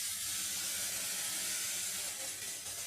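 Onions sautéing with turmeric in a pan make a continuous broad, steamy sizzling hiss that stays steady and close, without voices.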